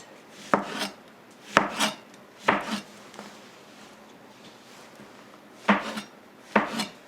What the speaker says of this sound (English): we're just going to take them and slice them thinly like this